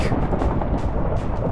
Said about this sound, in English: Don't you dare strike me with lightning.